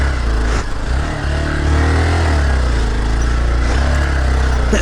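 A motorcycle engine runs loud and close at a steady throb with slight surges and bumps as it rides over a rough, potholed mountain road near Dhorpatan.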